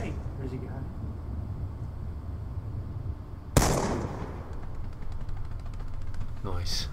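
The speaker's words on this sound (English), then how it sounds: "I figured I'd use my shotgun." A single loud, close shotgun blast in Call of Duty: Black Ops 2 multiplayer cracks out midway and fades into a short echoing tail, set against a steady bed of game ambience with faint chatter and a few smaller pops near the end.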